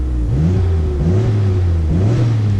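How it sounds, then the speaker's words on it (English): Nissan Skyline GT-R R32 engine revving through an HKS high-power cat-back exhaust, a loud, close, continuous drone whose pitch rises and falls in several swells, with no talking. "It doesn't have any sort of really aggressive exhaust, but it does have that HKS high power cat back."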